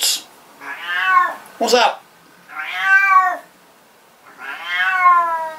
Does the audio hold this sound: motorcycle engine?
no